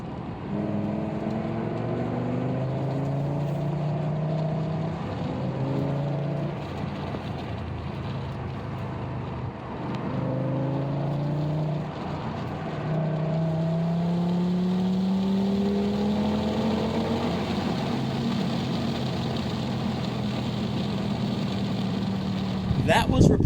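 A 2008 Audi S6 on a test drive after upper control arm replacement, its engine droning steadily from inside the cabin, with rising and falling pitch sweeps as it accelerates and shifts, continuous road rumble throughout.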